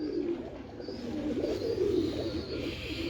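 Male pigeons coo close by in low, throaty, rolling calls that run continuously, with no talking.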